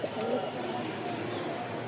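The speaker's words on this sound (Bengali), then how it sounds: "কবুতরের ডাক খুব সুন্দর" A domestic pigeon coos softly and close by, a short low throaty call over faint room noise.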